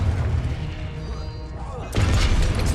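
Confringo blasting spell detonating in Hogwarts Legacy: a sudden heavy boom bursts in after rumbling combat noise, loud and close, leaving a dense crashing wash.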